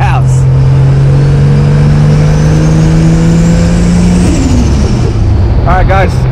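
A modified MK4 Toyota Supra JZA80 with a 2JZ-GTE engine and a Pulsar G35 1050 turbo (T51R Mod) revs, its engine note rising steadily with a whistling turbo spool before easing off, loud and close, with a voice briefly at the end.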